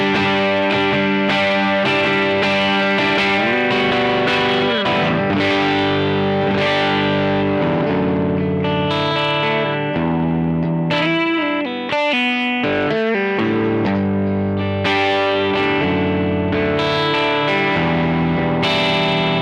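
Electric guitar runs through a Boss OD-200 pedal set to a blues driver overdrive, with a continuous gritty driven tone, sustained chords and lead phrases played loud and steady, with no talking.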